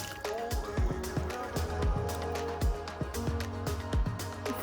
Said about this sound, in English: I'm adding 4 cups of water